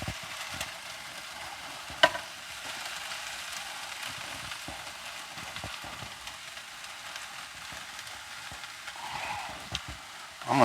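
Shrimp egg roll filling mix fries in a pan with a steady, close sizzle and occasional soft stirring sounds, with a few sharp clicks and a brief louder scrape near the end.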